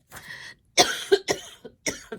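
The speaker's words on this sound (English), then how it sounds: "I'm having a coughing fit here." A person in a fit of coughing lets out several harsh, close bursts in quick succession, with short gaps between the hacks.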